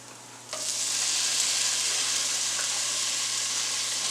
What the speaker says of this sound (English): And we're going to give that a stir.